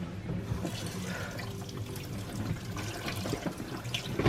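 Neck bones being rinsed under a running tap in a sink, a steady continuous gush of water with faint splashing and handling noises, fairly close and without talk.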